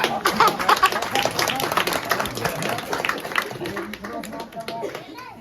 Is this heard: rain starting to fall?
no